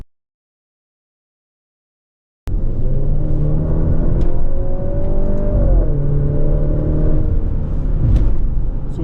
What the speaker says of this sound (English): This is the 2-liter turbocharged hybrid engine